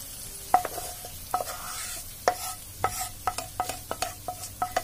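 Dry fruits fried in ghee are tipped into sweet zarda rice and stirred, giving a run of sharp spoon-on-pot scrapes and clinks over a faint sizzle, close and fairly loud, with no talking.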